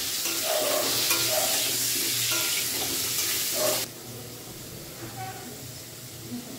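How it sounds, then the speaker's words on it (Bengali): Potatoes coated in salt and turmeric go into hot oil, and a loud hissing sizzle with stirring clatter fills the first few seconds before it drops off sharply to a quieter bubbling fry. "এবার আমি এই নুন হলুদ মাখানো আলুটাকে দিয়ে দেবো। এটাকে যা হালকা করে আমি লাল লাল করে ফ্রাই করে নেব।"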